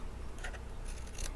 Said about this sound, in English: I'm going to use my little scissors here